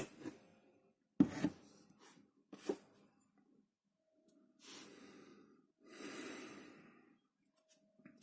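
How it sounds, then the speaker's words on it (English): Heavy, deep breaths and snorting sniffs close to the microphone, several sharp inhales and long exhales spaced irregularly, as a person braces before eating live worms. "Breathing deeply."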